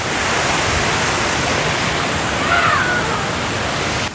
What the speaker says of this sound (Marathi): हा एक मोठा ओढा लागला आहे तो क्रॉस करूया